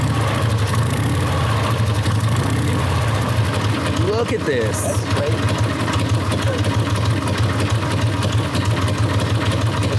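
A motorcycle engine idling quietly and steadily nearby, a low even thrum running the whole time beneath a man's brief spoken remarks.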